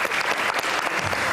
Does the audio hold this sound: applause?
yes